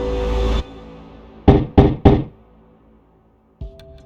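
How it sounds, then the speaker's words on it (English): Three quick, solid knocks on a padlocked door in AI: The Somnium Files, evenly spaced and close, following a brief low thud and trailing into a quiet game tone. "Knock knock and hello."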